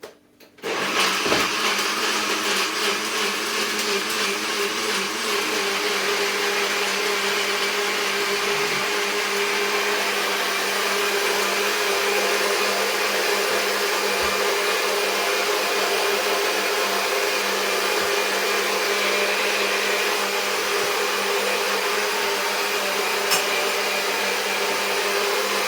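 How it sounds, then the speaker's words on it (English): A loud blender blending an almond milk drink whirs continuously for a long stretch after a brief start-up, its motor roaring steadily with a bright, harsh whine and no talking. "to free up the blender when I'm gonna blend it"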